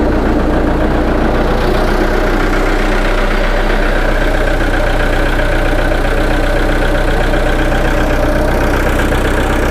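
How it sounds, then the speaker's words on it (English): A Deutz diesel engine on a Bobcat skid steer idles steadily close by, a continuous low rumble with a faint mechanical knock throughout and no voices. "Sounds amazing. I love these Deutz engines."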